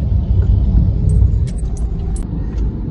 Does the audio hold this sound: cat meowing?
no